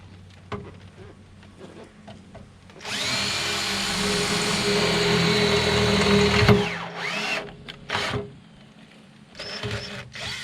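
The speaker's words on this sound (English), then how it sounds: "So I'll drill a pilot hole." A power drill bores a pilot hole while a beach buggy's doors are cut down, first faint handling noises, then a loud, steady whine for several seconds that stops abruptly, followed by a few short clunks.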